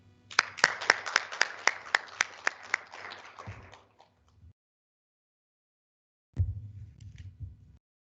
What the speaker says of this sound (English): give a very warm round of applause for Ntate Ramaidi.